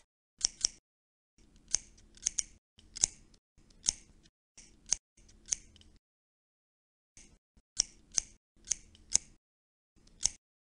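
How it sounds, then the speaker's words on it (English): Scissors snipping on a dog's fur in the Clifford Thinking Adventures PC game, a series of crisp, close metallic snips in quick pairs and clusters, repeating in bursts with short pauses between them. "Scissors."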